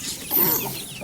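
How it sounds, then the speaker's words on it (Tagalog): Chickens cluck softly in a backyard farm pen alongside pigs, a short burst of close, chattering fowl calls over light ambient noise. "Dito na naman tayo sa manok."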